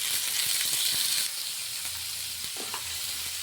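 Crabs hit a hot pan of fried, lightly reddened onions with a loud steady sizzle, the hiss easing slightly after the first second, with faint stirring clicks.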